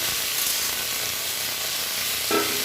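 Mixed vegetables are stirred and fried in a pan for a Malabar spinach dish, producing a dense, steady hiss of sizzling oil up close with a brief scrape of stirring near the end and no talking.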